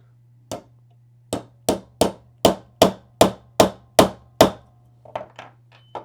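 A small hammer taps a 1/8 inch punch against the trigger pin of a CZ 457 rifle, giving about ten sharp, evenly spaced metallic knocks up close, followed by a few lighter, quicker taps.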